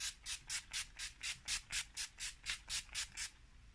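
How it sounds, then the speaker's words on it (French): Setting spray for face makeup misted onto a made-up face: about fourteen quick, evenly spaced pumped spritzes in a steady rhythm, close and crisp, with no talking. "on va venir fixer avec le spray qui allait avec les produits pour le teint"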